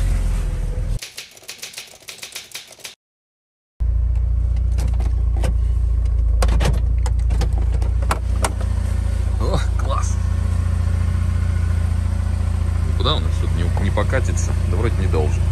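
A UAZ off-road vehicle drives a dirt road with a steady low engine rumble inside the cab. The body rattles and clatters over bumps, and the sound cuts out briefly early on.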